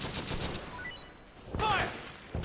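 Suppressing gunfire in Metal Gear Solid 4 bursts out as a dense rattling volley at moderate loudness, mixed with game sound effects and a brief shouted voice.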